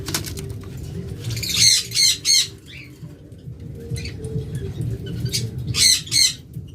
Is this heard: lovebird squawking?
yes